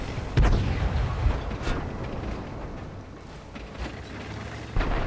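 Tank cannons fire in World of Tanks, with a heavy close boom near the start followed by further booming shots and a dull rumbling battle backdrop.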